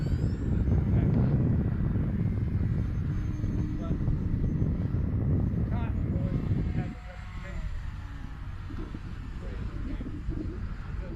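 An E-flite Cherokee radio-controlled model airplane's buzzing engine drones steadily and loudly, easing to a softer pitch partway through as it comes in to land without flaps, with light wind noise throughout.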